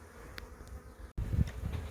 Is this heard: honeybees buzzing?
yes